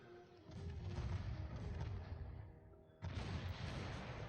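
Warship gunfire in the naval video game Ultimate Admiral Dreadnoughts, with heavy, rumbling cannon booms from a battleship engaging a destroyer, a sustained roll followed by a second sharp salvo, fairly quiet overall.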